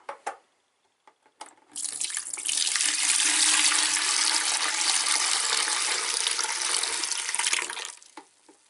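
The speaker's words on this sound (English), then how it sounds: "And then add some water to that." Tap water gushes steadily into a mixing container for a few seconds during utility room preparation, a loud continuous rush that starts abruptly and cuts off near the end, with no talking.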